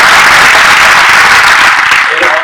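A bookstore event crowd gives loud, dense applause, a close, continuous roar of many people clapping that tapers slightly as it ends, with voices faintly mixed in.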